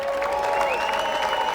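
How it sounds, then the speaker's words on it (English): Applause during an online convention address, a steady patter of clapping with sustained tones running beneath it, moderately loud and continuous. "Let's give them a virtual round of applause"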